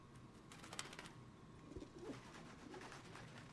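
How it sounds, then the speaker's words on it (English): Pigeons coo softly within Baldur's Gate 3 game ambience, a few low, throaty calls drifting through a faint background hum with no voices present. "I hear pigeons."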